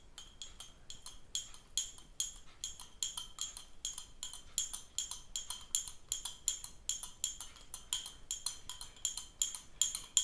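A spoon stirs salt into water in a glass, clinking rapidly and rhythmically against the sides in a steady run of bright, close taps that continue throughout.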